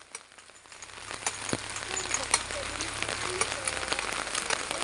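Rain falls steadily, building from light patters into a dense crackle of drops striking surfaces nearby, with scattered sharper taps and no voices.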